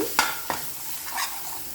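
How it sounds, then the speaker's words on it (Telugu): A tempering of urad dal and dried red chillies fries with chilli powder in hot oil, giving a short burst of sizzling with two quick stirring scrapes near the start. "మినప్పప్పు ఎండుమిర్చి పోపు వేగాక కారం వేసుకొని వేగించుకోవాలన్నమాట ఇలా మొత్తం వేగాలన్నమాట"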